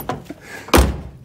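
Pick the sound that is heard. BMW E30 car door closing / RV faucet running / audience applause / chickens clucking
BMW E30 car door closing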